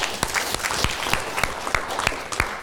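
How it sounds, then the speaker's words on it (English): An audience at a career-fair talk on professional interviewing claps for a participant; a modest, thin round of applause with distinct, evenly spread claps from a small group, heard alone. "let's give him a round of applause"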